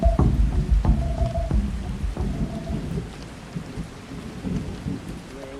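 Thunderstorm with heavy rain on a mountain trail along the Pacific Crest Trail: loud, close thunder cracks and rolling rumbles over a steady hiss of rain, fading to softer downpour noise.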